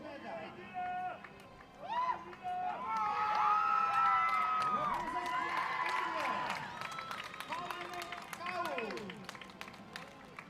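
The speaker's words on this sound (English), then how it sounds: "And then we'll hear a big cheer from the rest of the Indian team." The Indian under-18 women's compound archery team and crowd cheer after winning gold at the World Archery Youth Championships in Wroclaw, with shouts, whoops and clapping swelling loudly mid-clip, then easing, mixed with excited voices.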